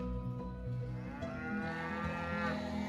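Cattle moo in long, loud, overlapping lowing calls that run through the whole stretch, with several animals heard together close by and no talk.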